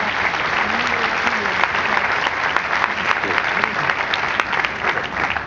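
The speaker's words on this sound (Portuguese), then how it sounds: "Give Sarah a big hand clap" An audience at a church service in Foz do Iguaçu breaks into applause, a loud steady roar of many clapping hands with a voice faintly speaking underneath.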